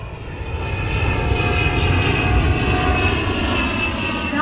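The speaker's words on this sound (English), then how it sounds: "Right, it is a plane." Airplane engine drones steadily and loudly, a continuous close roar with a broad low rumble and sustained tonal hum that holds for the full span without pause or voices.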